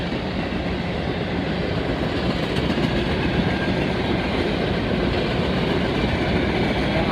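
An empty coal train rolls past near Oak Harbor, Ohio, its wagons producing a steady, loud rumble with rhythmic clickety-clack of wheels over rail joints throughout, unbroken and without voices.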